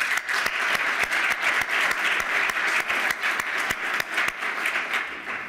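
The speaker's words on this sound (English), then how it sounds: "Please give her an applause." A conference audience at an agriculture forum expert panel gives sustained applause, dense steady clapping close by for the whole stretch.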